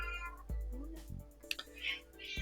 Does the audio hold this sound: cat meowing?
yes